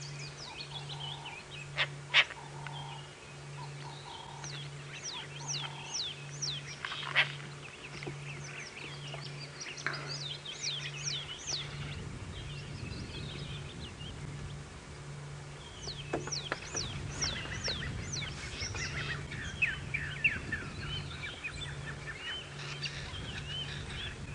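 Assorted wild birds call and chirp at a distance during a sunrise safari drive at Xivambala, short repeated whistles and trills scattered over a quiet outdoor background with a steady low hum.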